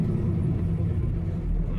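Steady low road rumble of normal highway traffic heard from inside a truck cab, a continuous close engine and tyre drone with no break.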